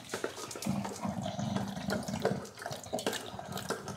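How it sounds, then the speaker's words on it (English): Water running from a kitchen tap in a home, a steady close splashing hiss with small clatters, continuous throughout with no talking. "I'm gonna get some water."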